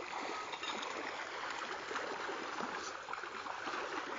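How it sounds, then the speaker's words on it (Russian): Farmed trout churning the water into a whirlpool inside a fish cage, heard as a steady, close rushing and splashing of agitated water with no voices. "Ну вот, они создают водоворот, достаточно большой ток воды."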